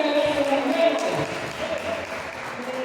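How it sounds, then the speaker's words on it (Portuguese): A church congregation breaks into applause during a deliverance service, the clapping mixed with a voice over a loudspeaker and fading slightly over three seconds. "uma salva de palmas"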